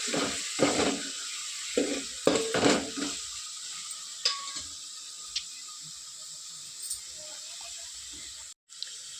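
Green chillies frying in hot oil in a pan, a soft steady sizzle and hiss running throughout, with a few utensil knocks and stirring scrapes early on and no talking.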